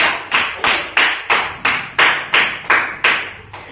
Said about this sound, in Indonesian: Oke, beri aplaus untuk Raya, juara pertama.